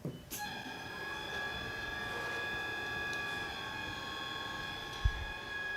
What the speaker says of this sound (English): this is a PFE machine, Particulate Filtration Efficiency Machine.